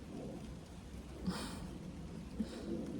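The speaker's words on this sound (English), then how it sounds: "again, it's raining" Soft, steady rainfall patters outdoors, a quiet wash of drops with a faint low rumble underneath.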